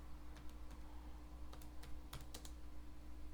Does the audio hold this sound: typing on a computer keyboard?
yes